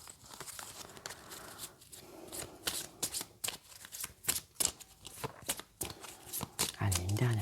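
Tarot-style cards are shuffled by hand for an astrological card reading. They make rapid, close riffling and snapping bursts in uneven clusters, with brief soft speech near the end.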